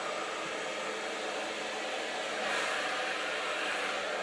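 Hair dryer blowing steadily while long hair is blow-dried from root to shaft for volume, a continuous broadband airy roar that swells slightly midway and stays close and loud throughout, with no talking.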